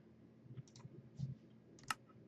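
A computer mouse clicking several times in quick, irregular succession, with small sharp clicks and one louder click near the end, close and quiet against a faint background hum.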